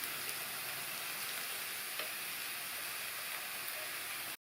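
Cooked rice frying in a hot pan with soy sauce and chili sauce for egg fried rice, a dense, steady sizzle close up with faint stirring scrapes, cutting off abruptly at the end.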